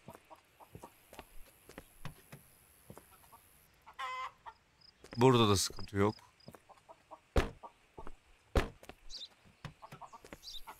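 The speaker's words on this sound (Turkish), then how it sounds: "Tavuklar var. Tavukçuklar." Chickens clucking in the police border-inspection game Contraband Police, a short burst of loud fowl calls midway amid sparse clicks and faint game ambience, with someone speaking briefly.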